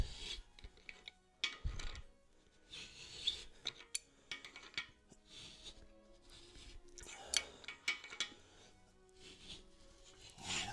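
A tap cuts threads into a core plug hole in a small block Ford engine block, giving intermittent scraping and rasping strokes with short pauses between them, close by and moderately quiet.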